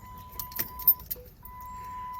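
Keys jangle softly and an ignition key clicks into the accessory position on a Chrysler Town & Country minivan, followed by a steady electronic chime.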